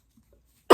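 One sharp, close cough bursts out abruptly after near silence, from a person who has had a lingering cough for about a month.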